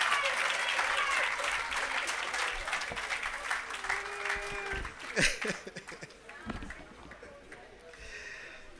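Applause from an audience at the commissioning of an irrigation system and agro park in Jamaica, loud clapping at first that thins out, with a voice speaking over the fading claps.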